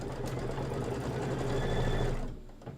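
Kimberbell Shout Hooray design being stitched on an embroidery sewing machine, a steady close whirring hum with a rapid needle rhythm running for most of the moment, then trailing off as it slows near the end.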